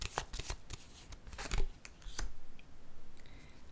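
Tarot cards being drawn, shuffled and laid down on a surface during a Scorpio reading, a series of close, crisp papery slides and soft taps, with no talking.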